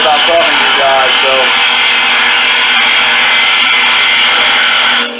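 A wood lathe spins a workpiece in a duplicator/copier setup while a lathe tool takes a lighter cut, giving a steady, loud, continuous broadband scraping whine that runs throughout and fades out at the end.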